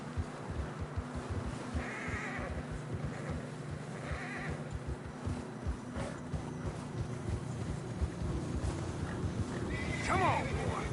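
Horses in a snowy video game scene clip-clop steadily along a narrow trail and whinny now and then, the hoofbeats quiet and continuous, with a short neigh near the end.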